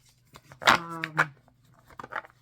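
A tarot deck of Super Linares Spark cards on linen cardstock is shuffled by hand in a few quick riffling bursts with soft pauses between, close and fairly quiet.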